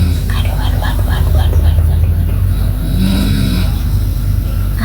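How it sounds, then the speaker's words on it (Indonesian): A tired husband snores in steady, rough breaths close by, the drones repeating every second or so under a constant low hum, with a faint whisper mixed in. "suamiku ngorok, dia kecapean"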